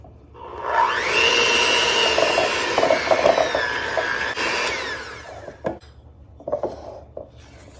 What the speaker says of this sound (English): So now we're going to mix in that milk.